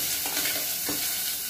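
Chopped onion tossed into a hot pan of browned garlic, giving a steady close sizzle and frying hiss with a couple of soft stirring scrapes and no talking.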